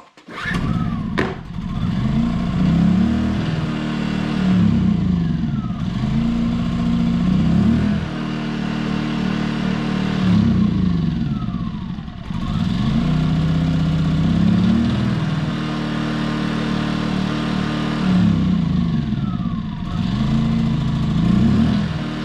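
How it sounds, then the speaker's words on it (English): A Champion 2000-watt stackable inverter generator runs with its eco mode off, its small engine droning steadily and close, rising and falling in speed in slow repeating surges. "Eco off, engine on."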